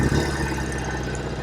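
A 1968 Norton Commando 750 motorcycle, first year of the model, idling just after a kick-start, with a steady, close engine drone and a low rumble running unbroken throughout.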